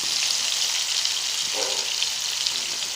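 Slices of plantain and brinjal frying in a pan over a medium flame, giving a steady, dense sizzle that holds evenly for the whole stretch with no voices.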